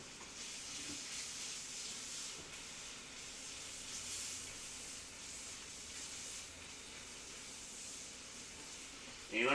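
Onions and garlic sizzle steadily in a pan used for browning steaks for beef burgundy, a continuous bright hiss holding close and even throughout.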